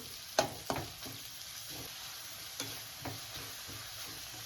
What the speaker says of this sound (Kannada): ಈರುಳ್ಳಿ ಚೆನ್ನಾಗಿ ಫ್ರೈ ಆಗಿ ಸಾಫ್ಟ್ ಆಗೋವರೆಗೂ 2 ರಿಂದ 3 ನಿಮಿಷ ಫ್ರೈ ಮಾಡ್ಕೋಬೇಕು.